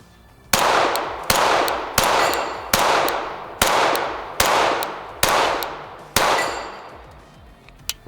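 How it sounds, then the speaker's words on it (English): Eight loud, sharp gunshots fired at a shooting target, evenly spaced about one per second, each with a short ringing decay and no talk. "So there it is, shooting on my new Infinite Defense target."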